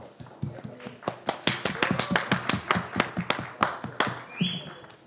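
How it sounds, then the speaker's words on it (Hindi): An audience claps on a television show set in a steady, lively patter of hand claps. It runs loud and close throughout, with a brief faint voice toward the end. "लेडीज एंड जेंटलमैन, एक बार जोरदार तालियां हो जाए"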